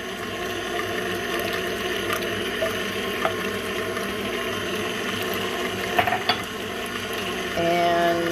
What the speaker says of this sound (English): So with the eggs, mix in buttermilk. This is with the whisk attachment.